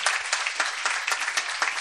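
A church congregation at a Good Friday service claps together in brisk, even applause, a close crackling burst of many hands without voices on top.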